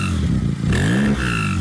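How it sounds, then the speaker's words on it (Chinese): Twin-turbo flat-six engine of a neglected Porsche running with a fault, loud and close, its rough droning note rising and shifting with rapid rattling pulses and no talk. "这种哒哒的噪音越来越大了，还是赶紧给车子开回去吧，等会别给发动机整报废了"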